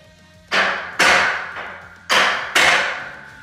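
A barbell slams onto a power rack with no noise-damping rubber, four loud, ringing metallic clanks in two close pairs, each decaying slowly, up close in a quiet room.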